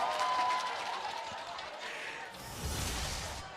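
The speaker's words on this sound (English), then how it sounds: "Crowd goes wild." An arena crowd at an MPL Philippines Season 12 Mobile Legends grand final between AP BREN and Blacklist roars and applauds, a broad sustained wash that swells near the end, with a caster's voice over it.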